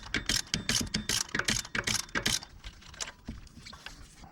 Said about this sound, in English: So now we're going to remove this idler pulley here,